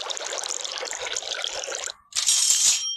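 Water sprays at a car wash in the Car Saler Simulator dealership game, a hissing jet that runs for about two seconds, breaks off briefly, then returns brighter and louder.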